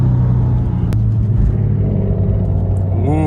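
Porsche 996 Turbo with a Fabspeed Gen 1 exhaust and 100-cell cats pulling hard in second gear, a loud, close, sustained engine roar heard from inside, ending with a rising whistle as revs climb.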